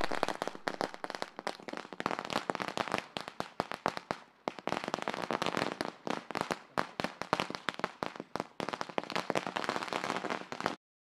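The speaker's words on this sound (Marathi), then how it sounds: "फटाकडीच्या आतिषबाजीमध्ये आपण त्यांचा स्वागत करत आहोत" Rapid, dense strings of firecrackers bursting continuously at a cricket match, loud and close, with a brief pause before the crackling resumes and then stops abruptly.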